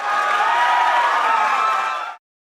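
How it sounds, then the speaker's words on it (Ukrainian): Audience applause and cheering at a Eurovision 2024 semi-final broadcast, a dense, steady wash of many hands clapping that holds loud for about two seconds and then cuts off abruptly. "Оплески, оплески, шановні глядачі."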